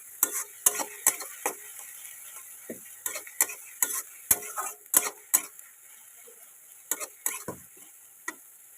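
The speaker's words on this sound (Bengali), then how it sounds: "এই গ্রেট করা পেঁয়াজটা দিয়ে এবার এটাকে ভালো করে ভেজে নেব।" Grated onion frying in a pan, stirred with a utensil that gives sharp irregular scrapes and clacks over a faint low sizzle, close by and without talk.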